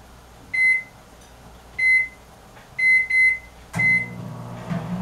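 A microwave oven gives five clear electronic beeps, single tones at first and then a quick pair, with a door clunk and a low running hum at the end, close and loud in a quiet kitchen.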